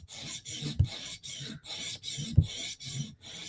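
A Spyderco knife blade being sharpened in a steady rhythm of about eight rasping strokes, each a short scraping pass followed by a pause, close and fairly quiet, no talking.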